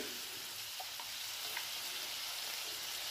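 Chopped tomatoes fry in a pan, giving a steady soft sizzle with occasional light pops, faint and continuous with no voices.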